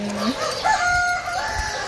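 Rooster crowing in a rural setting, a single drawn-out crow rising and holding steady, moderately close, with a soft ambient background and faint sung voice.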